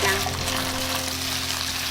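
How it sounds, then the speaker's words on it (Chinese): Duck pieces with ginger and shallots stir-fry in oil in a pan, giving a brief, steady, close sizzle over a low hum. "鸭肉煎香了，我们就把姜跟红葱头放下来炒香"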